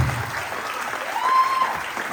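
An audience applauding judo students at a judo and jujitsu school's end-of-year show, a steady, moderately distant wash of clapping filling the whole moment.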